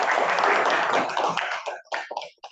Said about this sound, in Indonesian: kasih tepuk tangan buat Ciruto ya